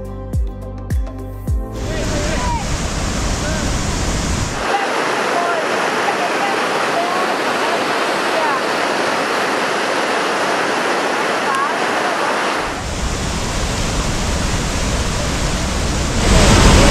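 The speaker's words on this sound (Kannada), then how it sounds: "ನೋಡಿ ನೀರು ಚಿಮ್ತಾ ಇರೋದು," Dhuandhar waterfall gushes with a loud, continuous roar of crashing water and spray, heard close by and steady throughout, with a few faint sounds at the start.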